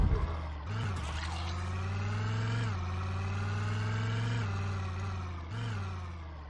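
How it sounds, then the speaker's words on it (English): A car engine driving at speed in the Project Zomboid video game: a steady, loud mid-pitched hum that holds a constant drone, with brief dips and surges as the throttle shifts. "We can get up to 120 miles an hour in this car, rather than just the 90 miles an hour in the ambulance."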